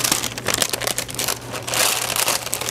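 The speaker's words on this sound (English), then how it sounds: "Okay, so now I'm gonna reuse this parchment paper." Parchment paper crinkles and crumples close up in a kitchen after baking sourdough bread, with dense, irregular crackling rustles continuing throughout and a steady low hum beneath.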